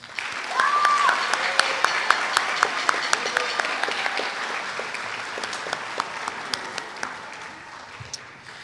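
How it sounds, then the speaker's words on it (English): Audience applause for ninth graders at a junior high spring band concert, a dense, sustained wash of clapping from a large crowd that stays steady and loud before gradually tapering off. "Let's give these 9th graders a round of applause."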